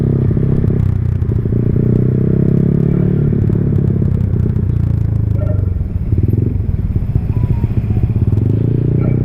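A Honda Vario motorcycle with a free-flow aftermarket exhaust runs close and loud, its deep throbbing rumble steady, with a crackly, uneven edge.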